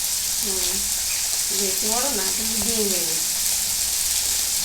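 Medium-sized chuna fish frying on a new stove, a constant loud sizzle throughout with people talking over it.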